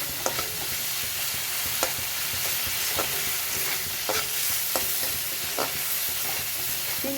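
Okra and shrimp frying in a pan, with a steady sizzle and scattered scraping clicks as the pieces are stirred, close and alone without any voices.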